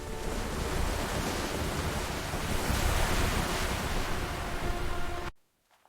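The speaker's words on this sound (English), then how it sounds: "They plunged into the sea." Heavy sea surf roars steadily at close range as waves crash into the water below a steep bank, a dense continuous wash that cuts off abruptly into near silence at the end.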